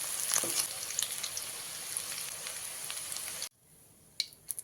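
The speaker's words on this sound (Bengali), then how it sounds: "আলুগুলোকে লাল লাল করে ভেজে নিয়েছি" Potatoes fry in hot oil in a pan with a dense, steady crackling sizzle that cuts off abruptly partway through, followed by near silence and a few brief clatters.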